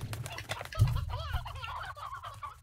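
An aged rooster in the game Slime Rancher gives short, soft clucks over a low rumbling game background, with no talk.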